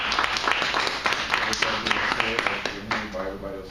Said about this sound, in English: everybody else is clapping